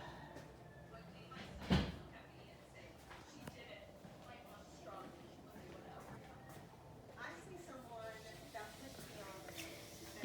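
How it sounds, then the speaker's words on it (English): A door swings shut with a single firm thump near the start of an indoor room, followed by quieter handling sounds and a person talking nearby. "Let me close that door so there's not so much glare."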